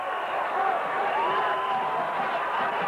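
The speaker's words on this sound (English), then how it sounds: "The crowd are enjoying this." A cricket crowd roars in a sustained, even wave of cheering after a huge six sails into the car park, distant and continuous throughout.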